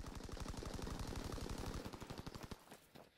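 Rapid sustained automatic gunfire from a World War II era weapon in Call of Duty WWII Team Deathmatch on the Gustav Cannon map, a dense steady burst lasting about two and a half seconds before cutting off, fairly faint overall.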